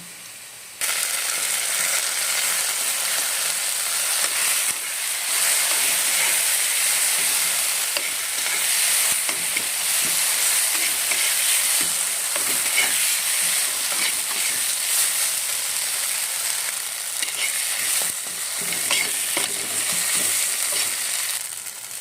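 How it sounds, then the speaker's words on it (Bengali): Ground drumstick leaf paste fries in oil while being stirred in a pan, a continuous close sizzle broken by repeated scraping and clicking stir strokes, starting abruptly after a brief quiet moment. "এবারে সজনে পাতা বাটাটা দিয়ে দেবো"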